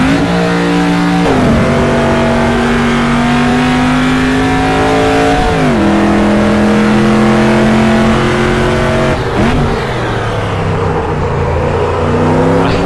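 A SuperTruck in the racing game Automobilista drifts sideways, its engine droning loud and steady with pitch shifts as revs rise and drop through gear changes, tyres scrubbing beneath, with no talk.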